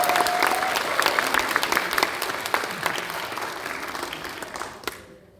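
A church congregation at an Easter union service applauds warmly, a dense sustained clatter of many hands that gradually thins and fades out, with no talk over it.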